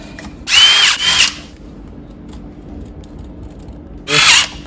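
Two loud bursts of a power drill driving screws back into a Traxxas TRX4 RC truck chassis while a battery tray is installed, the first a long whirring run at the start, the second shorter near the end, with a quiet pause between.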